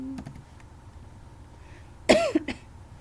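A person recovering from a month-long illness gives a short, sharp cough with a quick follow-up burst, close up against a quiet room background.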